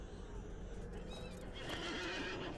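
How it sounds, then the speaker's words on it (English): A pony mount in the LOTRO video game gives a long neigh over steady game ambience, with faint hoof clip-clops underneath. "Let's see the Prize Smoky Black Pony."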